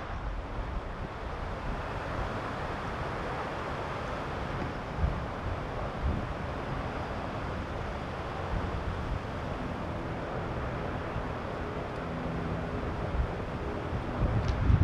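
Steady wind rushes and buffets the microphone throughout at the Gig Harbor Viewpoint, Point Defiance Park, Tacoma, Washington, with a low rumble and occasional louder gusts near the end.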